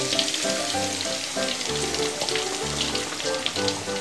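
Crispy batter for kremes-style catfish poured into hot frying oil, producing a loud, steady crackling sizzle that runs throughout with dense bubbling and no voices.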